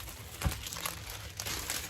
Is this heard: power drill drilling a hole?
no